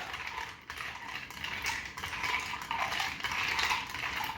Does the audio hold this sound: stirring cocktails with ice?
yes